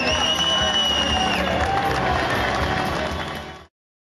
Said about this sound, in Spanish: todos los trabajadores lo despidieron con aplausos a este lugar